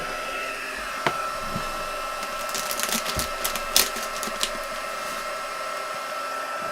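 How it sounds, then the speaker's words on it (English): Embossing heat tool blowing hot air over paper in a craft session, a steady, close whooshing hum that runs for the whole stretch, with a few light taps and rustles of handling along the way. "let's heat this up then and get it embossed"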